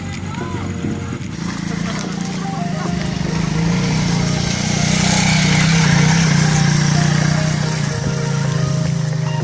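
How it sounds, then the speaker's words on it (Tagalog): A vehicle passes on a steep mountain road climbed by cyclists near the Kabayunan view deck. Its engine drone swells as it approaches and peaks near the end, with voices talking over it. "Ay, may sasakyan."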